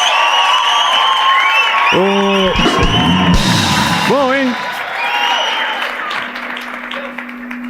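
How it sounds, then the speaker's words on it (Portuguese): An interview show audience claps and cheers for the guest, with whoops and shouts rising through the applause while people speak and yell over it before it fades. "salva de palmas"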